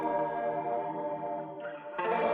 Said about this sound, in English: We'll add the N-Track chorus plugin to the loop